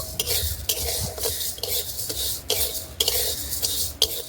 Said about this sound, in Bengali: শুকনো কড়াইতে চিনি দিয়েছি, একদম আস্তে আস্তে জাল দিয়ে বারবার করে নাড়া দিয়ে নেব।